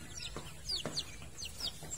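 Native chickens on a farm cluck and chirp in short bursts close by, a few quick calls over quiet background noise.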